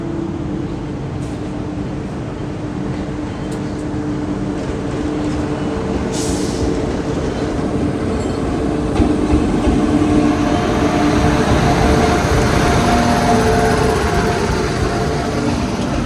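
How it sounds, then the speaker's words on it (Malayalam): The Veraval Jabalpur Express, an LHP-coach train hauled by a sooty WP7 locomotive, arrives on a loop track, a continuous loud rumble and rolling clatter that builds slightly as it draws near, without speech. "ആ വെരാവൽ ജബൽപൂർ എക്സ്പ്രസ് വരുന്നുണ്ട്"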